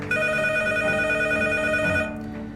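A telephone rings steadily in a Playmobil version of a French game show, a bright electronic tone that holds for about two seconds before stopping.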